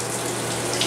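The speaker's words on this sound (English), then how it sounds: "Go ahead and turn on the shower." A hotel shower runs with a steady, even hiss of spraying water, close by and fairly quiet, with no talking over it.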